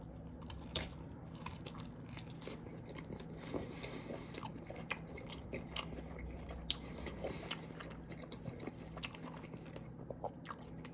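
Close, quiet bites and chewing of a cheese quesadilla with pico de gallo and tortilla, soft crunches and moist squishy mouth sounds repeating irregularly over a faint background.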